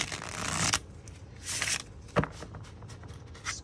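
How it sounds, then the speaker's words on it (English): Quick bursts of tarot cards being shuffled and riffled, a few short rustling flurries separated by brief pauses, close and fairly quiet. "Just quick shuffle."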